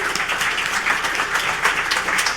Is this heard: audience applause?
yes